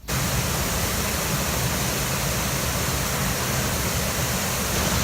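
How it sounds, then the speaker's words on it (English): Arbroath Falls waterfall in full spate after heavy water, a steady loud broadband roar of rushing water, continuous and close, with no voices over it. "So there's a lot of water on the falls today."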